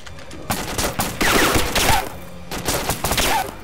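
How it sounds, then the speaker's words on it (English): Rapid bursts of rifle and machine-gun fire in a military video game's city battle, coming in uneven clusters of loud cracks with short gaps and a distant, echoing quality. "they're shooting the crap out of them"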